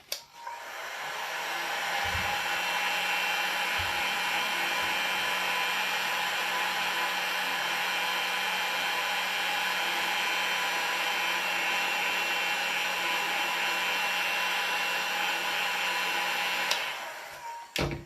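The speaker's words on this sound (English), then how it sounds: "Then heat gun." A heat gun blows steadily while shrinking heat-shrink tubing on braided speaker wire, a continuous loud whooshing drone that starts and stops cleanly with no talking.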